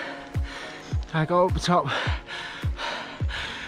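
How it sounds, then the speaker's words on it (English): A cyclist breathes heavily after riding uphill, with loud, close, rhythmic gasping breaths at roughly half-second intervals, while a voice briefly talks over the panting partway through. "Probably just a minor amount of heavy breathing"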